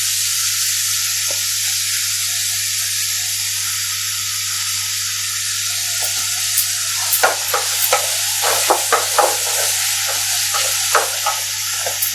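Onions sauté in a pan on a gas stove at medium flame, a steady close sizzle with bursts of louder crackle and spatter as the spoon stirs.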